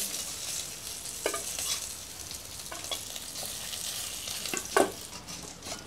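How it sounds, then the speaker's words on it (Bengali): Fish pieces fry in hot oil, a steady close hiss of sizzling with occasional louder spatters and a few stirring scrapes, no voices. "আমি এই তেলের ভিতর মাছ ভেজে নেব"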